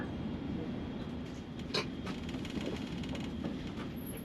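An SNCF regional train pulls into Paris St Lazare terminus, a steady rumbling rail noise with soft rhythmic clicks and faint squeals, heard from inside the carriage.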